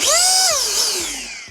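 A Wolfbox MF200 battery-powered air blower whines loudly up close, its high motor pitch sliding down as it winds down over about a second and a half, alone without speech.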